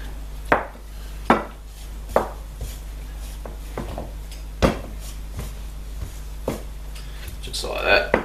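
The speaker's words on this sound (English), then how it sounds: "I'm just going to chuck a couple of slices in there just randomly, just to help infuse those flavours." Repeated knife chops into raw lamb shanks on a board, about eight sharp, irregular strikes over a steady low hum.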